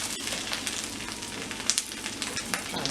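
A crepe sizzles steadily in a hot pan right after being flipped, a close, continuous crackling fry with small pops scattered through it.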